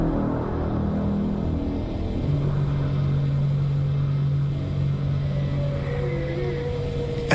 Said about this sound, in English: there was what we now understand to be the priming of the sonar weapon